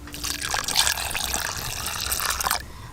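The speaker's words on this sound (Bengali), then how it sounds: "আবার জল দেব" Tap water splashes and trickles over salted potatoes in a bowl as they are rinsed for chicken pakora, a steady close pouring sound for about two and a half seconds before stopping.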